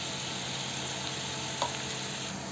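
Ginger paste sizzling in hot oil, a steady dense crackling fry that holds at an even level throughout, with one brief clink partway through and no talk.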